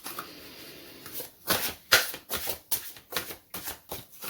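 Tarot cards being shuffled by hand, a series of crisp riffling bursts in a quick uneven rhythm, close and distinct after a quiet start.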